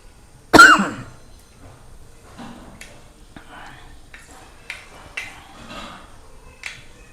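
A single sharp cough bursts out near the start, provoked by fenugreek seeds frying in a pan for a Kerala-style fish curry, followed by quieter kitchen clatter and faint breathy sounds.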